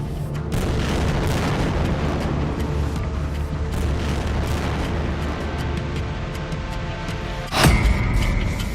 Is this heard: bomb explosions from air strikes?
yes